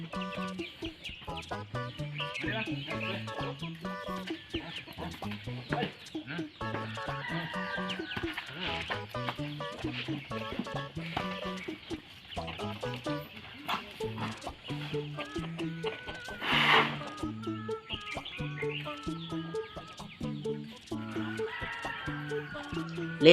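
Chickens cluck steadily throughout, a busy run of short clucks and calls layered with background music, with a louder squawk near the end.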